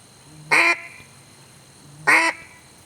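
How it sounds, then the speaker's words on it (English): Two basic quacks blown on a duck call, each short and loud with a brief raspy tone, spaced evenly apart against a quiet background. "So why don't you show us a basic quack there?"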